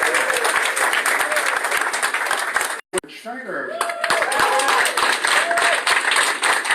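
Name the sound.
audience applause for a board member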